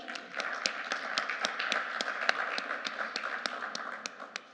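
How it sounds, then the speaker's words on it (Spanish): Audience at a panel discussion on care infrastructure applauding, a modest spread of overlapping hand claps at moderate distance, steady for several seconds before tapering off. "Un aplauso para él."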